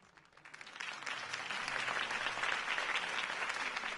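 Crowd applause from a video game, greeting the end of Harvey Dent's campaign speech, builds quickly from a few claps into a dense, steady roar of clapping that holds for several seconds.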